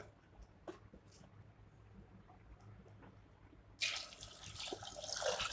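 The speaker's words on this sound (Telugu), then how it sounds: "రెండు గ్లాసులు వాటర్ వేసుకున్నాను" After a few seconds of quiet background, water starts pouring steadily into a pressure cooker, a close, splashing stream that keeps running.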